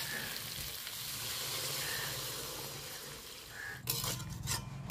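Water poured onto fried spice masala in a pan for a fish curry, a quiet steady sizzle that bursts into a louder hiss and bubble near the end.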